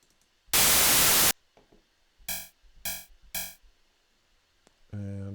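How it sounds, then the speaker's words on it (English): Synthesized white noise in Renoise starts as a loud, steady hiss burst about a second long. Three short pulsed tones follow, then another tonal hit at the end. "We're going to add in some more white noise."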